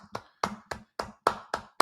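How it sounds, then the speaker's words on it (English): Several sharp hand claps, about seven in under two seconds, at an uneven rhythm with short gaps between them. They are close and moderately loud, with no talking. "can I applaud right now?"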